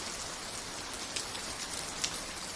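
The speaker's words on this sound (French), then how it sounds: "Et là, vraiment, on reconnaît de la pluie quoi." Rain pours down in a dense, uniform hiss with occasional sharper drop splashes, steady and close throughout and with no voices.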